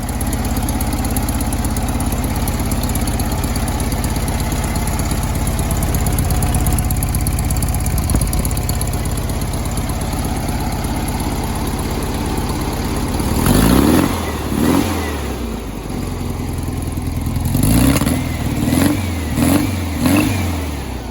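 A small air-cooled 1965 VW Beetle engine, running rich, idles steadily for a long stretch, then revs up several times in quick bursts, loud and close.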